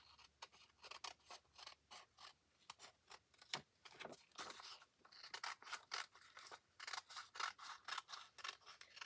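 Scissors trim paper in a crafting session, a quiet series of crisp snips in uneven bursts, close and alone without talk.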